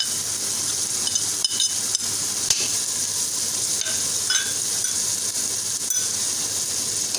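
Tomatoes and dry spice powders frying in a pan for ginger chicken, a continuous bright sizzle with faint clinks and stirring scrapes, close and steady with no speech.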